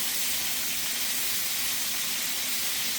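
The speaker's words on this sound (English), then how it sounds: "my pot is still boiling with my goat meat" Pot of goat meat boiling on the stove, giving off a steady, dense steam hiss with an underlying low hum, continuous and fairly loud throughout.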